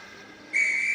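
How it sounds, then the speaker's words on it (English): A steady, high steam whistle starts partway through and holds loud and shrill to the end, over a faint background hiss. "Then the whistle blew, and James thought they'd better go."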